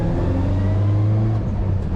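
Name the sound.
passing road traffic, car driving by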